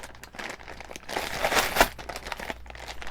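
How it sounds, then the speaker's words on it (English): A plastic bag crinkles and rustles close up as someone struggles to pull small sewing clips out of it, an irregular run of crackles swelling to a louder burst in the middle before settling back; no speech. "I'm fighting with a plastic bag."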